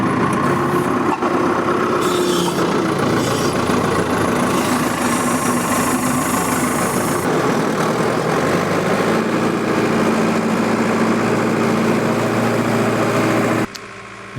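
An Allis Chalmers 175 diesel tractor plowing, its engine running at a steady laboring drone with a deep low hum, continuous and close, then briefly dropping near the end; no talk.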